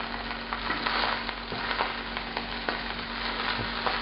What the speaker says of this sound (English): these are about ready to be fried on that hot cast iron skillet